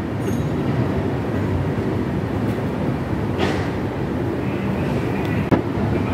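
The Ekota Express rumbles past Bangabandhu Bridge West station, a loud, continuous low roar of a train passing without stopping, with brief faint squeals and a sharp clack near the end.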